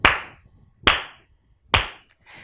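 Three sharp, separate hand claps spaced evenly about a second apart, close and crisp, each dying away quickly into near silence.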